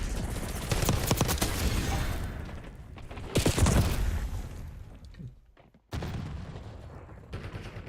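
Grenade blasts and gunfire in a video game, with loud bursts of rapid shots and booming impacts clustered in the first half, a brief lull, then another sharp burst near the end.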